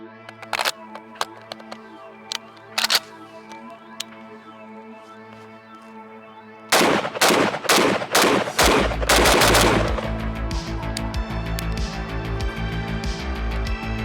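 An FAL battle rifle firing in a shooting match: a few sharp, separate shots, then a fast string of loud, close reports in quick succession, followed by a sustained loud rumble and ringing as the firing continues.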